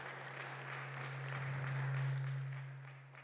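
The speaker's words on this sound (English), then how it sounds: "Give the Lord a hand clap of praise." A church congregation at a homegoing funeral service claps hands in praise, a broad, continuous wash of applause over a low sustained organ or keyboard tone that swells slightly midway.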